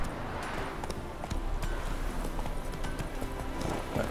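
Hoofbeats of the horse Roach in Witcher 3, a steady clip-clop trot carried under a dense ambient game soundscape throughout.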